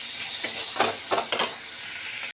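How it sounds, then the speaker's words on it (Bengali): Spices with ground coriander sautéing in a pan for spicy fish curry, a steady close sizzle with a few scraping stirs of a spoon, no voices. "মশলাগুলো কষে নিচ্ছি।"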